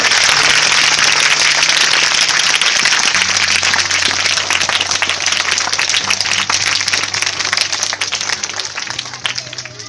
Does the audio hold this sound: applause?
yes